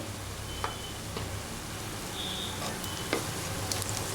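Onions, green chillies and ginger-garlic paste fry in oil for aloo palak, giving a steady close hiss and crackle with a few soft clinks of a stirring spoon against the pan.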